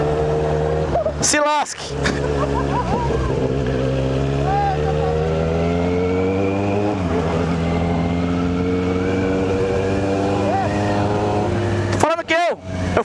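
A Honda Hornet motorcycle engine revs and accelerates, a steady sustained drone with rising harmonics under near continuous talk, with brief sharper bursts near the start and end.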